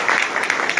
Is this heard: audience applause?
yes